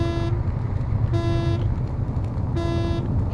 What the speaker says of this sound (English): Can you stop honking, please?